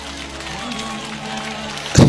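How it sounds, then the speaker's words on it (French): Crowd applause at a political meeting, a steady wash of clapping and crowd noise under a persistent hum, swelling louder near the end. "Vous allez applaudir ça."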